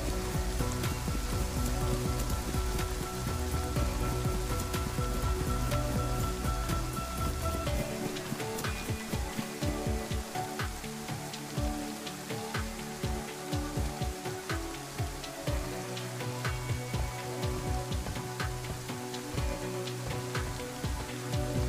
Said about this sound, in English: You will notice too that the rain is less under a large canopy of trees.